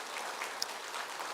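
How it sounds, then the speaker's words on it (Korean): A church congregation applauding during a Sunday worship service, a brief, steady patter of many hands clapping at a distance, fairly faint. "우리 두 분 축복과 환영의 박수로 맞이하겠습니다."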